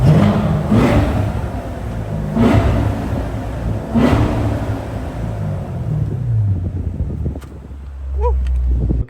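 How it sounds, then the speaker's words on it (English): C7 Corvette engine revved in the dark early morning, three sharp blips rising over a deep rumbling idle, loud and close, settling to a quieter idle at the end. "let's get some revs going."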